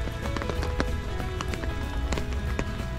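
Rain falls outdoors during a dog walk in a quiet park, a steady light patter with scattered sharper taps and drips throughout.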